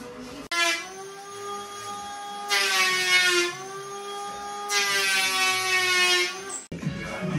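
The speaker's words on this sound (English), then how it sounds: "So what you've just seen is Ashley planing this end panel to shape" Electric planer shaping a kitchen end panel during a kitchen fitting, a steady close whine with two louder, brighter cutting passes, heard alone without talk.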